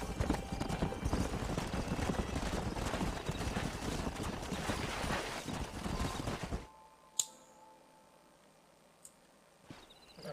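Horse hooves clip-clop at a steady trot in the video game Red Dead Redemption, loud over game ambience for several seconds before stopping abruptly, followed by a few sparse sharp sounds.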